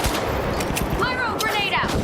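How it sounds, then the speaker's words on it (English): Gunfire from a frag grenade fight in the shooter game The Finals, with dense bursts of shots and blasts rattling in fast succession, loud and continuous throughout. "Frag grenade out! Frag out!"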